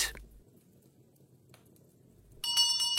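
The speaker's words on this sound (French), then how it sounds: "il n'y a pas de doute, c'est la sonnette" After a near-silent stretch, a bright electric doorbell suddenly rings, a sustained metallic tone that keeps sounding to the end.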